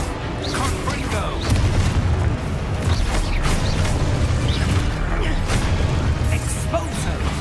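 Fire-spell explosions and magical bursts from Hogwarts Legacy, a dense run of booming blasts and crackling impacts that stays loud throughout, with low rumble layered under sharp hits and no clear gaps.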